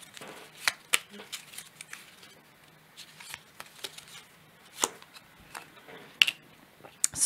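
Oracle cards are shuffled and drawn with sharp, scattered papery flicks and taps between stretches of near silence, while someone speaks French under them.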